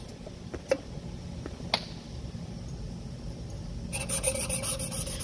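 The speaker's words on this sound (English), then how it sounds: "He'll put a little bit of grinding compound on the valve there." Gritty rhythmic rasping of a valve being lapped with grinding compound, close and steady, with a few sharp ticks early on and a busier scrape near the end.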